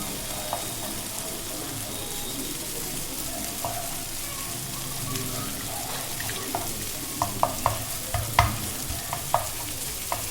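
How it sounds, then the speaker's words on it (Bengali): Steady frying sizzles as an egg fries in a pan over a raised gas flame while a utensil stirs and scrapes, with clicks and taps growing more frequent toward the end. "ডিমটা আমি ভেজে নেব"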